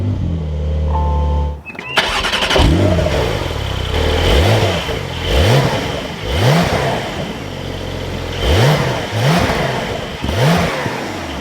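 Porsche 911 Targa 4S engine cranking to life after a brief pause, then settling into a loud idle punctuated by a series of sharp rising throttle blips and revs, close up with no talking.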